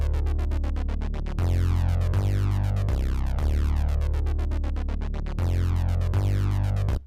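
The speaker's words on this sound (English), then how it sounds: "Listen to this synth bass." A deep synth bass line with sustained, droning low notes changing pitch every second or so, layered with sweeping, arpeggio-like tones above, loud and continuous on its own.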